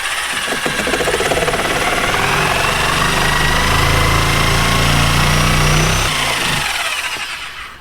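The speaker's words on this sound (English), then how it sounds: "I'm going to use my reciprocating saw, and then I'm going to finish it off with my oscillating saw" A reciprocating saw cuts through wooden rafter tails while T1-11 siding is installed, its harsh buzzing rasp running continuously up close for several seconds before dropping off at the end.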